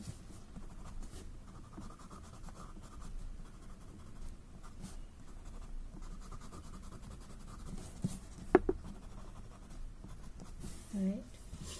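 A chalk pencil scratches softly across paper in short, continuous strokes, faint and close, with a few small taps.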